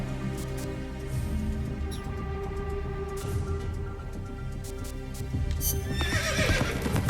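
A horse whinnies in the video game Metal Gear Solid Peace Walker, a sustained neigh over a humming game backdrop with clip-clop hoofbeats, and a brief clatter near the end.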